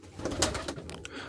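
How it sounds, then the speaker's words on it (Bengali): Domestic pigeons feeding together at a set mealtime, with soft close cooing and faint pecking and shuffling in a quiet loft. "দেখেন আমার কবুতরগুলো সব একসাথে খাচ্ছে"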